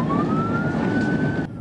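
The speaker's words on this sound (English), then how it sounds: "When the driver hears the sirens," A police car siren wails steadily from a pursuing patrol vehicle on a road, loud and sustained over engine and road rumble, cutting off near the end.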